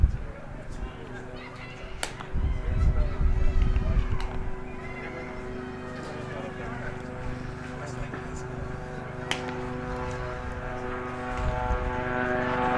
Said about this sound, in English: Planes flying high overhead, or low, just low enough.